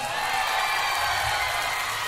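Dense live-concert crowd noise of applause and cheering for a band member on stage, a continuous wash of clapping at steady loudness.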